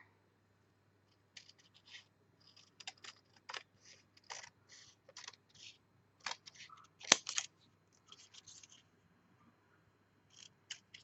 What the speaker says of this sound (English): And we can cut the rest off.